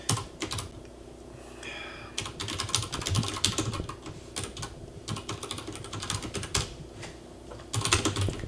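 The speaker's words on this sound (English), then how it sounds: "My typing." Rapid clicking of computer keyboard keys, in irregular bursts of typing with short pauses, close up over a faint background hum.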